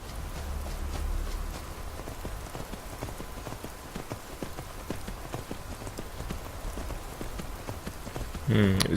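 Horse hooves clip-clop at a steady trot in Skyrim, sounding moderately close over a rainy background hiss, with a brief burst of another sound at the very end.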